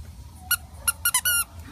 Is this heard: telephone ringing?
no